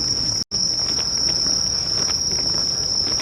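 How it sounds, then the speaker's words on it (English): Cicadas and crickets drone loudly and steadily at night in a large cemetery in Tokyo, a dense, unbroken insect chorus with one brief dropout near the start. "the moment I step into the place, the cicada start to scream loudly."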